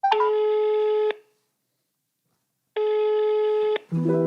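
A telephone dials and rings a number, giving two clean, loud electronic ring tones of about a second each, separated by a gap of silence, followed by a short burst of lower tones at the end.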